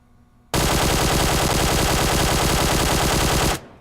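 A QBZ assault rifle fitted with a flash hider fires in PUBG Mobile, one loud continuous full-auto burst of about three seconds that cuts off sharply, with no talk.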